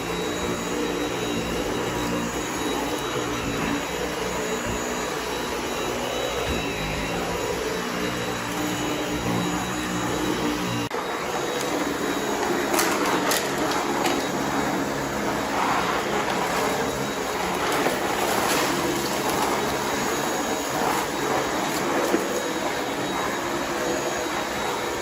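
Dyson V8 Animal cordless stick vacuum running over a rug and a garage floor, a steady loud whine and rush that holds throughout, shifting in tone partway as the surface changes.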